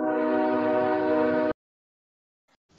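A passing train sounds one sustained, loud, steady horn blast for about a second and a half before it cuts off sharply, leaving near silence, then a faint sound at the end.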